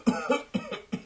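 Several short, close coughs in quick succession, three or four harsh bursts with brief gaps between them.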